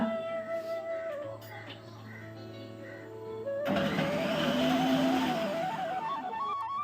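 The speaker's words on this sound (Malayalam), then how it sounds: "ഞാൻ ഈ മിക്സി ഉള്ളതുകൊണ്ട് അതിൽ വെച്ചൊന്ന് ക്രഷ് ചെയ്തെടുക്കുകയാണ് സവാള" A kitchen mixer grinder crushing onions whirs to life partway through, its motor whining loudly with shifting pitch as it churns, after a quieter stretch of background hum.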